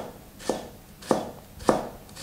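A kitchen knife cuts half a small onion into julienne strips on a cutting board, giving four crisp, evenly spaced chops about half a second apart, close and clear with no talk.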